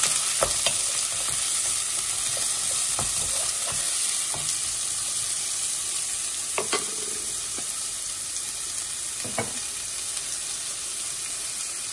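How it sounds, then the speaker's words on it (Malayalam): Chopped onion, green chilies and small garlic cloves sizzle steadily in hot oil with popping mustard seeds, a dense continuous hiss broken by scattered spatula scrapes and clicks, close and loud with no talking. "കടുക് ഇങ്ങനെ പൊട്ടുമ്പോൾ നമുക്ക് ഒരു സവോളയും ചെറുതായിട്ട് അരിഞ്ഞതും അതിലേക്ക് 2 പച്ചമുളകും ഒരു 3-4 ചെറിയ വെളുത്തുള്ളി ചെറുതായിട്ട് അരിഞ്ഞതും കൂടെ ഇട്ട് ഇളക്കി കൊടുക്കാം"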